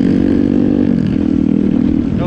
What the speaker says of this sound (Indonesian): Mamang pakai KLX 150 punya Om Danu.